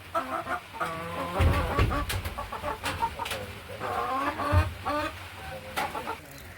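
Hens on a small farm, being caught and moved by transport crate to a coop, cluck and squawk in a busy overlapping chorus throughout, fairly close, with no talking.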